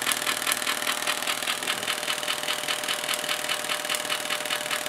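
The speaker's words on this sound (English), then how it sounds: "Running the system at straight 12 volts didn't produce much for RPMs." A zero force magnetic motor model, with a coil pushing against iron and running on 12 volts, gives off a steady, rapid pulsing whir that stays even and close throughout, without talk.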